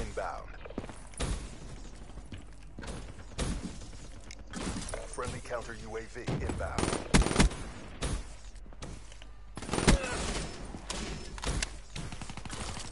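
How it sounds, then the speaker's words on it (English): Gunfire from a teammate in a multiplayer shooter game, scattered bursts and sharp shots at irregular intervals, fairly quiet and mixed with mechanical clatter while a person talks throughout. "This teammate was shooting me!"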